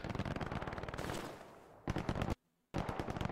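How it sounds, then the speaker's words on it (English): Rapid bursts of machine-gun fire in the Hell Let Loose World War II shooter crackle nearby in short strings, stop briefly, then resume, with a sudden silent gap late in the clip. "Where are they shooting from?"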